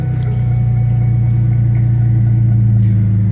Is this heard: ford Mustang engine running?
yes